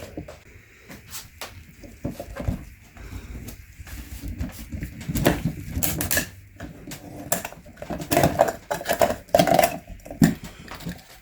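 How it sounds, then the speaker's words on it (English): A used ACDelco Ultraguard UPF48R oil filter is cut open with a tool, giving a run of close, irregular metallic scraping, crunching and rattling bursts of varying loudness with no talking. "let's open this filter up and see what it looks like"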